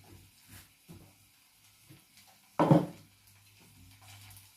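Steam hisses up from a pot of vegetables on a home stove in a budget Jamaican kitchen, one loud broadband burst in the middle over faint kitchen clatter and a low hum.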